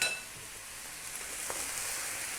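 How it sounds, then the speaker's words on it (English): Cold, day-old rice fries steadily in a hot pan with a continuous bright sizzle, near and even throughout, and a faint clink partway through. "Now it's quite important that we actually fry this rice."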